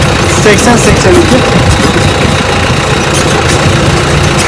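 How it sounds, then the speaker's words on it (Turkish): A Timosa 8082 tractor engine runs steadily and loudly throughout, a continuous low rumbling drone with a rattling mechanical texture. "Bugün traktörle gidiyoruz araziye."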